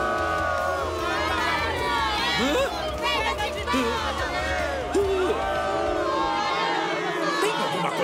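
A large cartoon football stadium crowd roars and cheers with whoops and shouts rising and falling, while voices talk over the din before it cuts off near the end.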